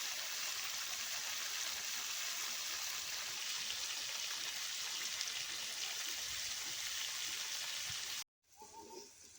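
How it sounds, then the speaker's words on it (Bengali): Spice-rinsing water pours steadily into a pan of sautéed cauliflower in a continuous, even rush, close by and unbroken for several seconds before stopping abruptly. "মশলা ধোয়া জলটা এখন দিয়ে দিচ্ছি"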